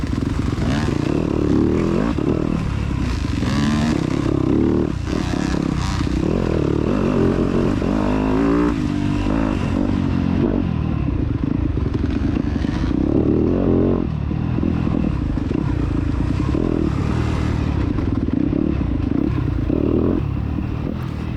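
Four-stroke dirt bike engine racing in a cross-country event, a loud, steady drone with rough revving and clattering through the whole stretch, close and continuous with no voices.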